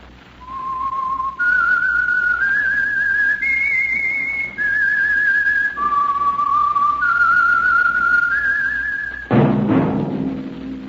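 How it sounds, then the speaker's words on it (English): A clear, melodic whistled tune, the signal theme of the 1949 radio drama The Whistler, rising and falling in steady sustained notes, close and loud, ending with a sudden burst of noise. "That whistle is your signal"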